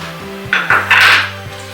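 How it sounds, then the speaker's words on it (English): Ingredients for an apple crisp stirred together in a bowl, giving a few close, loud scraping and clinking strokes over a low steady hum, with no talking. "So I just go ahead and mix everything up very well."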